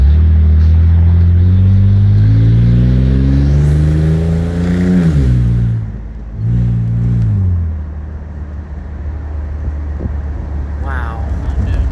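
A loud 2003 Ford Mustang engine runs and revs, its pitch sweeping up and down before settling into a steady idle, heard close.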